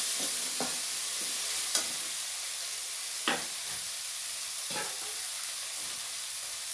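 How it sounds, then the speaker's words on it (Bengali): Spice paste salted and sautéed in a pan for a rohu fish curry with taro, a loud continuous sizzling hiss broken by a few sharp spatter bursts and stirring scrapes. "আমি এটা ভালো করে কষিয়ে নেবো"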